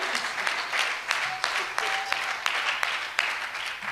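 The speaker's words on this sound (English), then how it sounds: "give the Lord a clap offering of praise" A church congregation claps in praise during a service. The dense applause is punctuated by louder individual claps, with voices and a faint sustained tone underneath.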